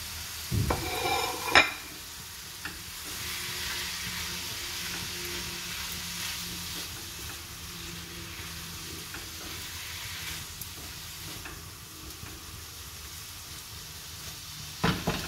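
A hot dog frying in butter in a pan for Filipino spaghetti, a steady close sizzle with occasional stirring and utensil clinks at the start and end.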